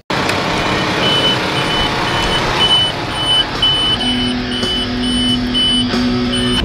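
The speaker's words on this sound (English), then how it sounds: "I can hear the Pro 700 beeping all the way out here." Repeated electronic beeps from a tractor's Pro 700 autosteer guidance monitor sound in short steady pulses over the loud rumble of a running engine, first one pitch, then a lower second tone joins.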